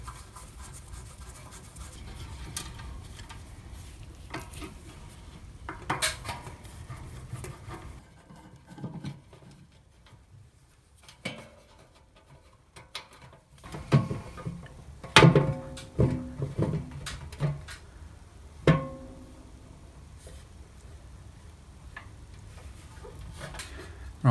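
Screws being undone and removed from the lid of a drill press during a teardown, a run of small scratchy ticks, taps and clicks of tool on metal, close by and intermittent with quiet gaps, no talking.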